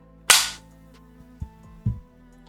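Musket gunfire in the video game Lines of Battle: one sharp, loud shot that decays quickly, followed by a few softer, more distant pops over a faint low hum.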